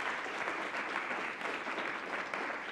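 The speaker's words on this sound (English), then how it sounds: "I'd just like you all to put a huge round of applause together for our panelists." An audience at a smart city and mobility panel applauds the panelists, a steady wash of clapping from many hands, fairly soft and even throughout with no voices over it.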